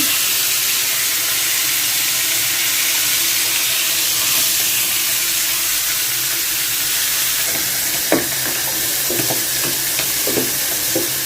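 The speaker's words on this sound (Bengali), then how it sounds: "মাছটা আগে ভাজি" Fresh fish frying in a pan, a loud continuous hiss of sizzling oil up close, with a few utensil clinks and scrapes toward the end, no voices.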